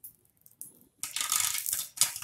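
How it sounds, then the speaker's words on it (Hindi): Popcorn kernels bursting inside a pressure cooker over a high flame, a quiet lull giving way to a dense, loud rattle of pops and clattering kernels against the metal pot, close by with no speech. "आप पॉपकॉर्न फूटने की आवाज सुन सकते हैं कुकर के अंदर,"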